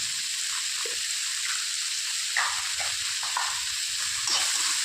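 Onions sauté with salt in a pan, giving an even, soft sizzle with a few light stirring scrapes. No voice is heard.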